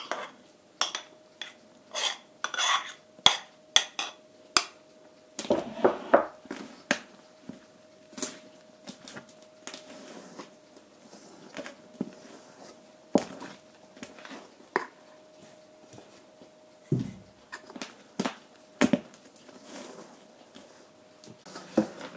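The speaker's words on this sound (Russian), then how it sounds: "Сначала я замешиваю все ложкой." Scattered clinks and scrapes of a spoon knocking against a bowl while mixing bun dough, irregular and fairly quiet, with a faint steady hum behind.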